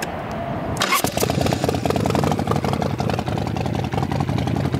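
A 2013 Hardcore Choppers Black Ops motorcycle with an open primary cranks briefly, then fires into a loud, close, lumpy idle with rapid uneven exhaust pulses, no voices over it.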